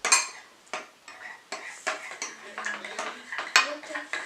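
Slime being stirred in a bowl, giving repeated close clinks and scrapes of a utensil against the bowl in an uneven rhythm, with some faint talk in the background.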